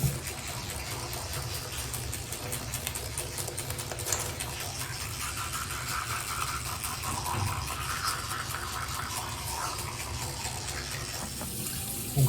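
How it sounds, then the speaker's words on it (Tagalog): An electric toothbrush buzzing while a bathroom tap runs, the steady rush of water filling the sink under a faint continuous hum, close and even for the whole stretch. "Toothbrush ko pala is electric yan."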